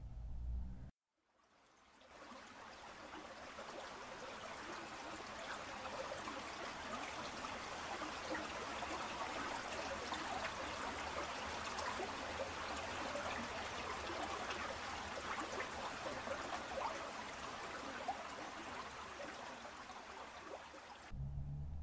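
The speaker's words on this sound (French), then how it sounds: "tous ces petits cours d'eau ont parcouru la terre desséchée alentour" Small streams of water trickle steadily across parched earth, a faint, even babbling wash that starts after a brief silence and runs unbroken to the end.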